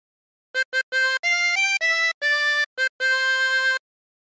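A 16-hole tremolo harmonica plays the short LWIAY theme phrase from Pewdiepie's show, a run of separate reedy notes, some short and some held, loud and close with no voices.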